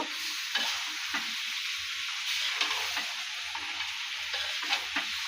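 Small pieces of beef with sugar being stirred in a hot pan, a continuous bright sizzle broken by repeated rhythmic scraping strokes of the spoon, close and fairly loud with no voices.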